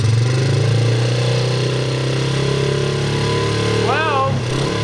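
A Honda CRF50 small dirt bike engine runs steadily close by, droning throughout with a slight rise in revs, under people talking.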